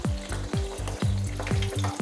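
Potato slices deep frying in hot oil inside a ladle-basket nest mold, a steady loud crackling sizzle with repeated bursts of bubbling, no voices.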